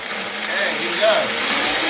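A Vitamix blender blending a green smoothie with ice at high speed, giving a steady, dense whirring roar that holds at an even loudness for the whole stretch without pausing.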